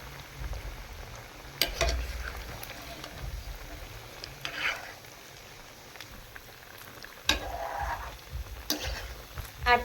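Semolina pitha frying in hot oil while being turned, a steady low sizzle and bubbling with occasional soft scrapes and clinks from the spatula.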